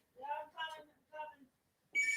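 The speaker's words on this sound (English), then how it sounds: "Oh, there's the phone." A telephone starts ringing indoors, its bright electronic ring cutting in loudly right after a few spoken words.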